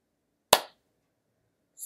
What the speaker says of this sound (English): And clap your hands really slow.